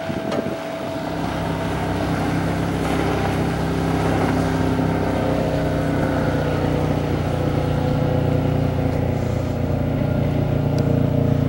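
A 2002 Monterey Edge 180E motorboat runs at full throttle with a loud, steady engine drone that builds over the first seconds and then holds, along with wind buffeting the microphone and water rushing past.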